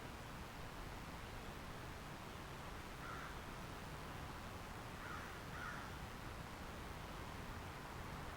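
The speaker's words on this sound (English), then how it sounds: "No, it's just a crow." A crow caws faintly and far off against a steady hiss of background noise, giving a few short calls around the middle of the stretch.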